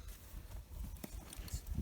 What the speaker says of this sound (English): So Wyatt's just getting his bridle on.